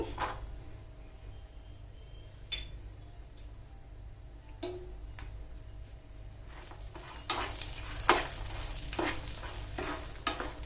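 Cashews go into hot oil for a tamarind rice tempering, giving a quiet, steady sizzle with a few sharp clinks and stirring scrapes of a utensil against the pan.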